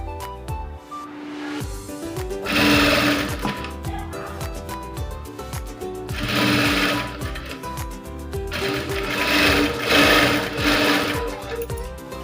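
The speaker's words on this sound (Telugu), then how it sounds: "ఇప్పుడు ఈ చివర నుంచి మనము స్టిచ్చింగ్ను స్టార్ట్ చేయాలి" An electric sewing machine stitches the front panel of a blouse in three loud, rapid bursts of rhythmic needle clatter, separated by brief pauses with quieter mechanical clicks, no one talking.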